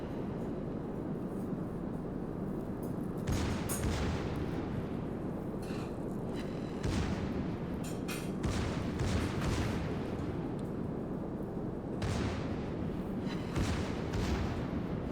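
Heavy naval shell fire from a Nagato battleship in World of Warships, a series of loud booming salvos at several-second intervals over a constant low rumbling engine and sea background.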